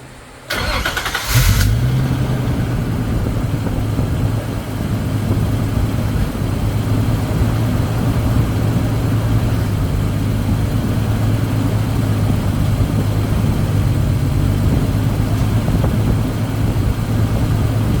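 1988 Nissan 300ZX engine cranking with a short starter whir, catching, then settling into a steady close idle that drones on unbroken, no talk over it.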